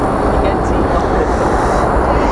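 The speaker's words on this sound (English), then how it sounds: "Spoilers up, reversers out on the C-175 here," A C-175 touching down on runway 18 right at DFW at night with spoilers up and reversers out, a loud, dense, continuous engine rush that fills the whole moment.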